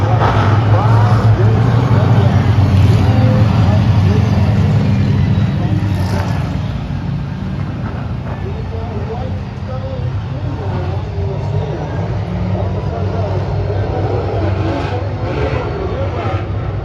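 Late model race cars circle the track behind the pace car at a championship event, a steady loud engine drone filling the whole stretch with crowd babble mixed underneath.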